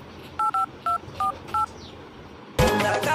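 Six short telephone keypad tones beep in a quick, uneven sequence over a quiet background, followed by a sudden louder burst of noise.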